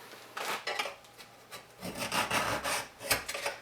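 A metal scribe drags across sheet metal, tracing a mark in a few quick, scratchy rasping strokes, close up, with no talking.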